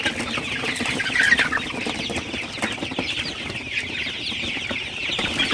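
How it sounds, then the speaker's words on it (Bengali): Sonali super hybrid chickens cluck in a hot shed, a busy chorus of soft overlapping clucks and murmurs from many birds at close range, with no voices. "আপনারা দেখতে পাচ্ছেন আমার সোনালী মুরগিগুলা কিন্তু আসলে মোটামুটি খুবই ভালো আছে"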